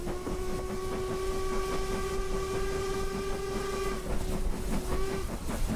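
LMS Princess Royal Class steam locomotive in Train Simulator, a continuous running rumble with a long sustained whistle tone held for about five seconds before cutting off, followed by rhythmic chuffing and clatter.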